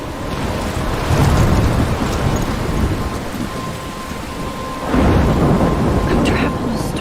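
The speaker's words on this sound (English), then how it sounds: "I'm trapped in a storm?" Heavy rain and rumbling thunder roar through a storm in the game Life Is Strange, with a loud surge of thunder near the middle and another swell toward the end, steady downpour throughout.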